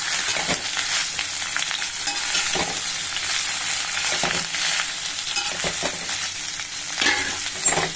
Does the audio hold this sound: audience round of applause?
no